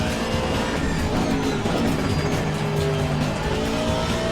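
A race car loses traction and skids off the track, its tires squealing against a constant, loud engine roar that fills the whole stretch with no pauses.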